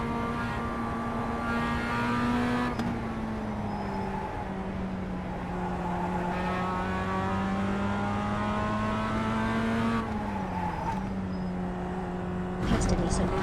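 A race car engine in a video game drones steadily while being driven to warm the tyres, its pitch drifting up and down with gear changes, with voices talking over it.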